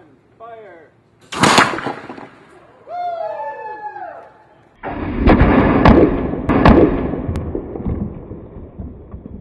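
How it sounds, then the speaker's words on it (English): A pneumatic cannon fires a 2x4 into a concrete masonry block wall test specimen: a loud sharp blast and impact boom, preceded by voices counting down, with rumbling, clattering debris after. "we fully expect the cannon to shoot the 2x4 and break into the wall specimen"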